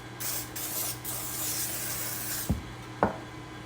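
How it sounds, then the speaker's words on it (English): A steady butter cooking spray hisses onto a baking pan for about two and a half seconds, then two short sharp knocks follow, close by. "spray it with butter so that the Sopa Paraguaya does not stick to the pan"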